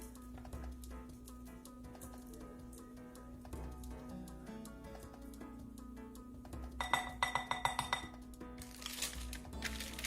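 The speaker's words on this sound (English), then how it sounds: "I'm going to take these and transfer them into a glass bowl" Cooked shrimp tipped into a glass bowl in a home kitchen, heard as a quick run of bright clinks and taps late in the clip over a steady low hum.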